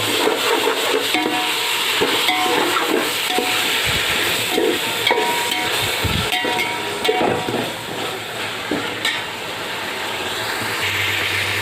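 Tomatoes with coriander and mint sautéing in a pot for mutton biryani, a steady broadband sizzle with stirring scrapes and occasional spoon knocks, close and continuous with no talk.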